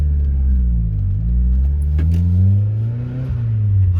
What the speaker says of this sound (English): the turbo noises are unreal